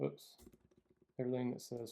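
Quick run of light clicks on a computer keyboard while entering data in an Excel spreadsheet, close and fairly quiet, followed by a voice speaking over it.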